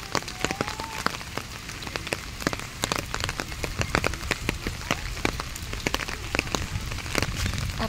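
Rain pattering on surfaces in Punggol Park, a dense crackle of drops and splashes with sharper nearby hits, steady throughout and fairly close, with faint hints of voices in the background.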